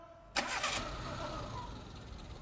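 A car engine cranks and catches with a sharp start, then settles into a steady idle. The sound is fairly close, in a motor garage, with no talk over it.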